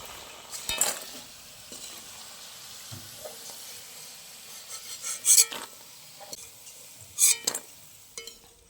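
Nimki, a flaky fried dough snack, deep-frying in hot oil gives a soft, continuous bubbling sizzle close by, broken by a few sharp clinks and scrapes of a metal spoon against the pan.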